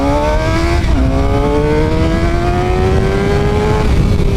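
A Suzuki GSX-R750 sport bike fitted with a Yoshimura R77 full exhaust and a Moore Mafia tune accelerates hard through the gears, its rising engine whine climbing in pitch with a short dip at one shift, loud and close throughout.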